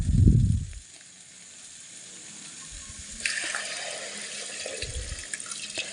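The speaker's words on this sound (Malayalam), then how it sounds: "ഇനി ഞാൻ വെള്ളം ഒഴിച്ച് കൊടുക്കുകയാണ്." Water is poured into a hot pan of drumstick pods cooking with salt: a brief low splash, then a long fizzing sizzle and running-water hiss that grows louder partway through.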